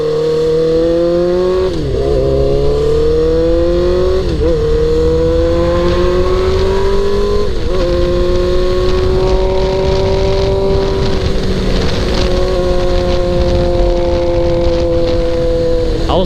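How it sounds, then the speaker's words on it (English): Loud, raspy motorcycle exhaust drones up close from an exhaust pipe hanging off, the engine pitch rising and dipping with a few throttle changes, steady and continuous throughout. "I was wondering when my exhaust pipe sounded so loud. It's because it's hanging off."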